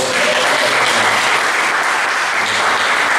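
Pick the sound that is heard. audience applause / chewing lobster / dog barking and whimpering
audience applause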